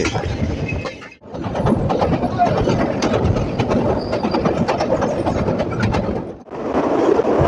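The 728 Khulna-bound Rupsa Express intercity train runs at speed with a loud, continuous rumble and rapid clatter of wheels on rails, heard close up, dipping briefly twice.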